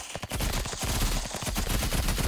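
Uzi fire in Roblox Rivals comes as one rapid, continuous burst of sharp, evenly spaced shots. It is loud and close, with no talk over it.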